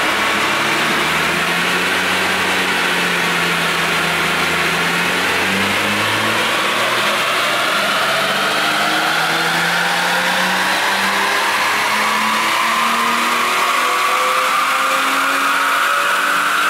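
A car with its air filter removed revs at full throttle on a dyno, a loud continuous engine roar whose pitch climbs steadily through the gears without a break.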